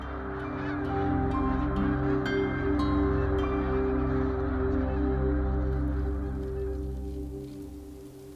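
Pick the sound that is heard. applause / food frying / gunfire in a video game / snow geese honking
snow geese honking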